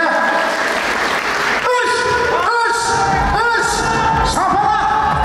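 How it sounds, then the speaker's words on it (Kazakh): A crowd applauds at a Kazakh wedding feast led by a toastmaster, clapping loud and sustained under music and a host's shouted calls. "Шапалақ бар ма?"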